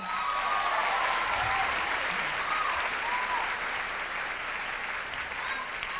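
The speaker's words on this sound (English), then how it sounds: "And your applause for this evening's entertainers, Danny Brewington and Micheline Bonilla." A pageant audience at Miss California USA 1997 claps steadily in a dense, sustained wash of applause, with a few faint whoops rising over the clapping.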